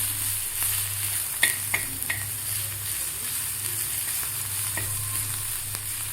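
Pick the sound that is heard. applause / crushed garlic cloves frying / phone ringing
crushed garlic cloves frying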